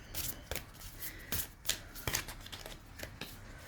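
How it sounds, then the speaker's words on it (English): Celtic Oracle Crystal oracle cards being shuffled by hand, quick close riffles and soft slaps of card stock in irregular bursts at low volume. "All right, one more shuffle and we'll go."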